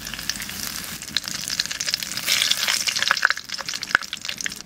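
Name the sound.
dried chillies and garam masala frying in hot oil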